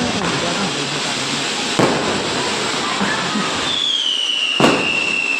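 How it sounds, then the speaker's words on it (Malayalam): Diwali firecrackers burst in Mumbai in sharp cracks over a constant crackling roar, with a couple of louder bangs standing out and a rising whistle near the end. "വലിയ സൗണ്ട് ഉണ്ടാക്കുന്ന പടക്കം ഞാൻ പൊട്ടിച്ചു"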